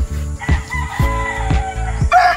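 A Kelso gamefowl rooster on a game farm crows loudly and close by, giving several quick repeated calls with clucking.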